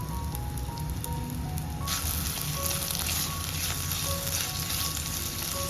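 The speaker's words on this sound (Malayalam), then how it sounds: "ഓയിലൊന്ന് ചൂടായി വരുന്ന സമയം ഇതിലേക്ക് ഒരു മീഡിയം സൈസ് സവാള സ്ലൈസായി അരിഞ്ഞതുകൂടെ ചേർത്ത്" Sliced medium onion sizzling in hot oil in a clay pot, a steady frying hiss and crackle that grows denser partway through, continuous and close with no talk.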